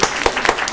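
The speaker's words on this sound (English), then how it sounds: "we can applaud this guy" Audience applause after a talk on China's energy challenges, a brief burst of many hands clapping close and loud, uneven claps overlapping.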